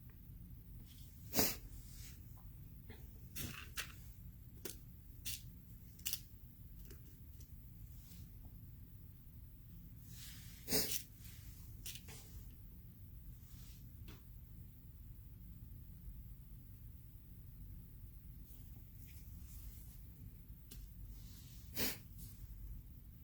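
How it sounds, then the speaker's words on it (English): Allergy sniffles come as repeated sharp nasal snorts and sniffs, scattered irregularly across a quiet room with a low steady background hum, near and fairly faint. "My allergies just kicked in. Sorry for the sniffles."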